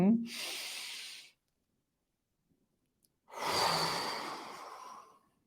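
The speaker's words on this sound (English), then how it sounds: "Deep inhale." Two slow, deep breaths during a guided breathing exercise, each a long airy hiss lasting about a second or more, separated by a couple of seconds of silence, close and clear.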